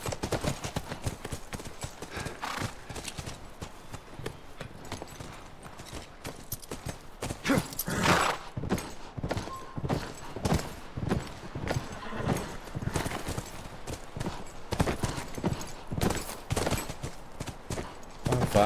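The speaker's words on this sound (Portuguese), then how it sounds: "Vai, cavalo." In The Last of Us Remastered, horse hooves clop in a fast, steady galloping rhythm throughout, close and continuous, with faint game ambience behind.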